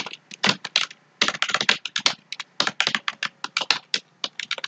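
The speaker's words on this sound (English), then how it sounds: "So in the file name, just type application." Rapid typing on a computer keyboard as a file name is entered, bursts of close, crisp key clicks in uneven runs with brief pauses, no talking.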